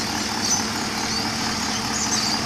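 Steady, low Holden Commodore VE SS engine idle running continuously with a faint whine, no voices, a fairly quiet and even hum throughout.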